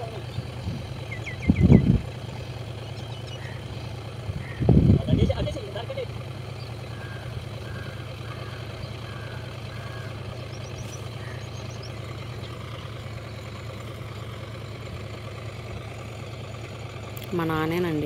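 Tractor engine idling steadily in a farm field during sowing, a low continuous rumble throughout with a couple of louder bursts of nearby noise early on.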